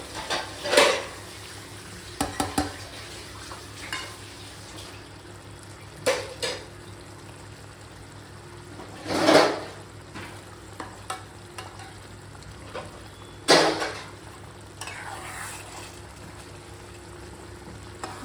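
Egg gravy simmers in a pan with a quiet bubbling background, interrupted by several scattered knocks and scrapes of a spoon stirring against the metal, close and without talk.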